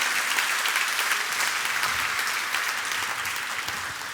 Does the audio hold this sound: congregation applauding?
yes